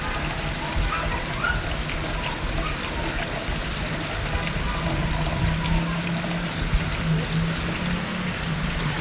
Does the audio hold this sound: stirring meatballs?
no